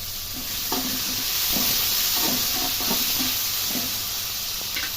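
Green chillies frying with ginger in a pan, with a constant close sizzle and intermittent stirring scrapes and taps.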